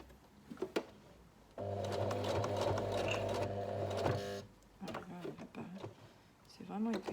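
A sewing machine stitches through a thick denim zipper seam, a steady loud whirring hum for about three seconds before stopping, with someone speaking before and after it.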